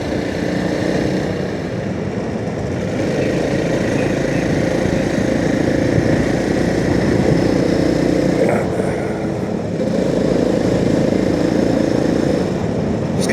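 A motorcycle engine runs steadily and loud at close range while riding through a village in Spain, holding an even drone with a brief dip in the middle, no voices.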